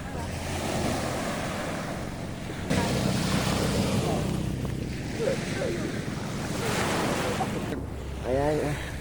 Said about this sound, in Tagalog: Ngayon medyo ano lang, konti lang yung alon niya